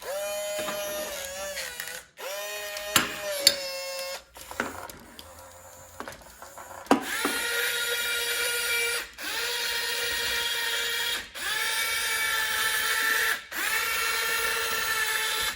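A 1:25-scale metal RC excavator toy with an alloy bucket runs on its own, its small motors and gears whining steadily close by, with clicks, clunks and brief pauses as the motions change.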